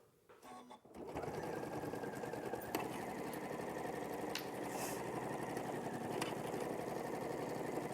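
A sewing machine runs steadily and continuously, stitching all the way around a pocket on a garment, its motor whirring close and loud throughout after a brief quiet start.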